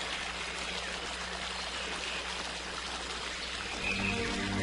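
A gentle forest stream flows with a soft, continuous rush and trickle, steady and fairly quiet, swelling slightly near the end.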